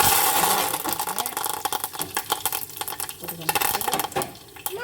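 Curry leaves and dried chillies sizzling and crackling in hot oil in a pan while cooking peerkangai (ridge gourd) chutney, a loud continuous spitting hiss with dense pops throughout.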